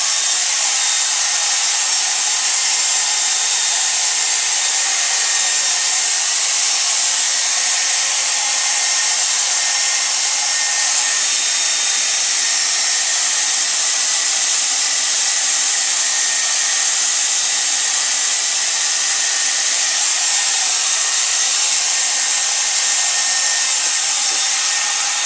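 A hair dryer blows steadily and loudly for the whole stretch, drying freshly applied Venetian plaster (Marmorino KS) on an exterior surface. The whoosh is continuous and close, with no talking.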